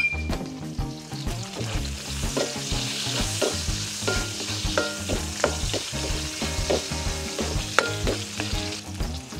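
Onions sizzle and crackle steadily in a very hot pan with garlic for Batangas-style chicken menudo, with repeated stirring scrapes and no talking.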